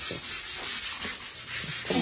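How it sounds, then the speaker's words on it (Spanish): Steady, rhythmic rasping of sandpaper rubbing back and forth, close and continuous with regular strokes. "me gusta como lija, me encanta como lija"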